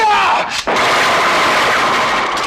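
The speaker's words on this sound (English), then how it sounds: "The final gunfight is nearly operatic in its intensity" Sharp gunfire bursts in a police shootout, loud and dense, with a sweeping whoosh and heavy crackling shots layered through a chaotic action scene.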